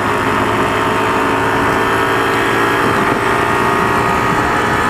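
A motorcycle exhaust on a ride to a tunnel drones steadily and loudly for the whole stretch, a continuous mid-pitched engine rumble with wind noise and no break.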